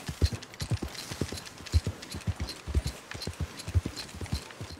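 Horse hooves clip-clopping in the video game Red Dead Redemption 2, a close, steady walking rhythm of crisp hoof strikes repeating throughout, with no voices.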